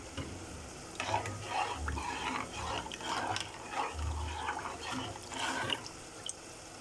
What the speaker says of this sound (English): Our beef mince is getting cooked up right there real nicely.